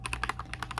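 Rapid keystrokes clatter on a computer keyboard as a command is typed, a quick run of close, crisp clicks over a low steady hum.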